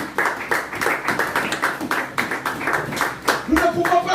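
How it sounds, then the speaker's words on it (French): A church congregation claps rhythmically in steady, fairly close bursts while voices speak and call out over the clapping. "Acclame Jésus"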